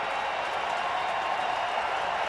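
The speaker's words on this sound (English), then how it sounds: "Crowd getting wild." Baseball stadium crowd during a Colorado at Arizona game, cheering and applauding in a steady, dense roar that holds level throughout.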